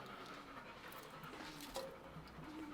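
A dog pants quickly and steadily close by in a home kitchen, with light background noise and no talking.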